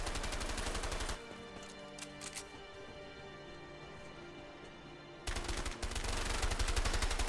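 Gunfire in A Way Out opens with a loud, rapid automatic burst. A quieter stretch follows, and then a second sustained, close burst of fire.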